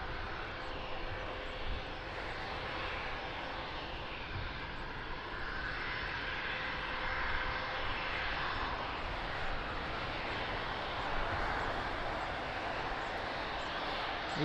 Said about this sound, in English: Nice 777 takeoff